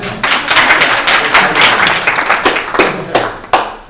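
Lively clapping from a group at a club general meeting, dense and sustained for several seconds with sharper individual claps standing out near the end.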